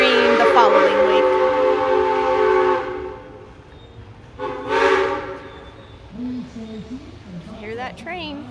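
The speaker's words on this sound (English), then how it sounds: "Hear that train?" A long, loud train horn blast fades, then a second shorter blast sounds, with rumbling between and a brief voice near the end.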